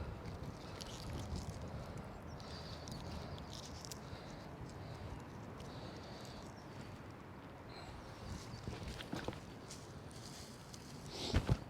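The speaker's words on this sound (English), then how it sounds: "I tell you what, that wind's getting up." Wind gusting steadily outdoors in a garden during March sowing and planting, a broad continuous rushing with mic buffeting and a few louder bursts near the end.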